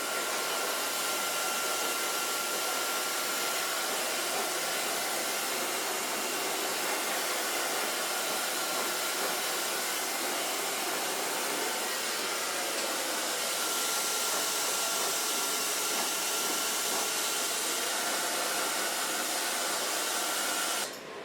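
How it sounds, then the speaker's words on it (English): A hair dryer blow-dries a short pixie cut, giving a steady, loud, close whoosh that runs unbroken for the whole stretch with no talking. "Je kunt hem gewoon in het model blazen met de föhn alleen."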